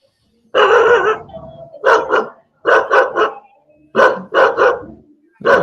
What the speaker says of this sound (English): Yes, some stray dogs and here in the sun.